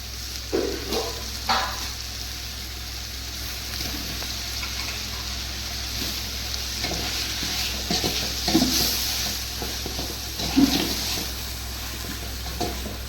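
Tomatoes sizzle in a hot pan while being cooked for chicken kurma, with a steady low crackle and occasional scraping and clinks of a spoon stirring against the pan.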